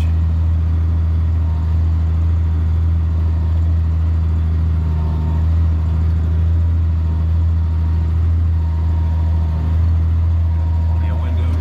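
An engine held at roughly 1500–1600 RPM during big-bale work on stalks and silage gives a loud, steady low drone that stays even and unbroken throughout.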